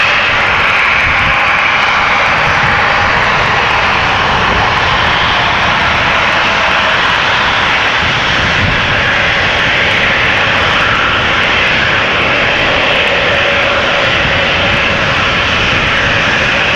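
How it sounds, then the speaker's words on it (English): A Transavia Airbus A321neo jet at Amsterdam Schiphol Airport makes a strong, continuous engine roar, loud and unbroken from start to finish, with no talking. "Transavia flight 6117 to Malaga, A321neo."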